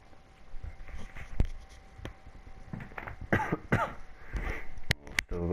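Several sharp coughs from someone with a sore throat, a few isolated bursts early on and then a denser cluster toward the end, close and fairly loud over a faint background hum.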